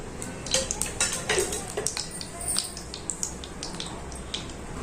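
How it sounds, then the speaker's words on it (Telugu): A pan goes onto a lit stove while brinjal dry fish curry is cooked, with scattered light metallic clinks and taps of cookware over a soft steady background hiss, fairly quiet throughout. "స్టవ్ వెలిగించి ప్యాన్ పెట్టుకున్నాం"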